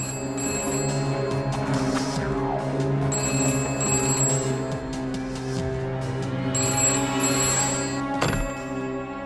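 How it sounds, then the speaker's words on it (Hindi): A phone rings in repeated electronic bursts with pauses between them, fairly loud and near, over a steady tonal background. "अरे अम्मा, आपका फोन बज रहा है।"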